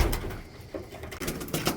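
Pigeons coo softly in a low, burbling voice in a feral pigeon loft during breeding season, fairly faint against steady background noise.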